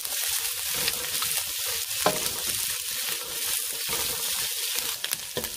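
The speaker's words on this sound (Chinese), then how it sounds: "就加埋啲蜜糖豆咯，用荷蘭豆都可以，將佢兜炒一分鐘啦" Sugar snap peas stir-fried in a wok for a vegan dish, giving a steady, close sizzle with spatula scrapes and tosses breaking through at irregular moments.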